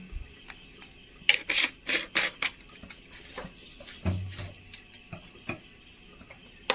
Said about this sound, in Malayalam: ഇത് നന്നായി അരച്ചെടുക്കട്ടെ